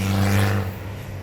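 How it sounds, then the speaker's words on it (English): A loud car rumbles past close by, with a strong low engine drone that fades after a moment. "There was a big noise of a car."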